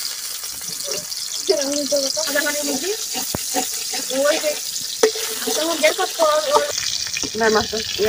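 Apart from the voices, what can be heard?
fish frying in a pan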